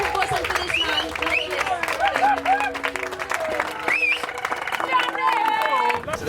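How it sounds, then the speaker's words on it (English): Applause and cheering from an audience at a Huntington's Disease Association fundraiser, sustained clapping mixed with crowd chatter, whistles and shouts throughout. "Big round of applause, please."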